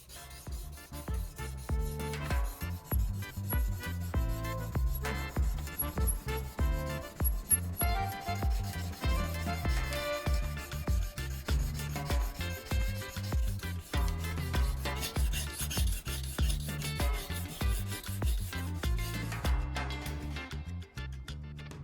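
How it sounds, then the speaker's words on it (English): Steady back-and-forth scraping strokes of a jig-mounted drill bit on a whetstone repeat in an even rhythm, close up and continuous, with no voices. "Place the mounted drill bit against the stone and begin sharpening."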